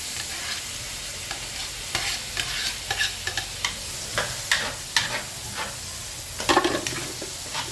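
Carrots frying in butter while being stirred in a pan, a steady sizzle broken by repeated scraping strokes of the utensil, close and moderately loud with no talking.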